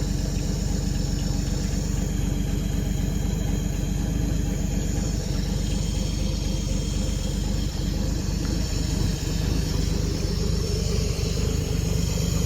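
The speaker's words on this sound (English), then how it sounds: "See how smooth that car runs?" A 1956 Chevrolet engine idling steadily after a cold winter, a loud, even low rumble with regular firing pulses that holds unbroken for the whole stretch, close up with no talk.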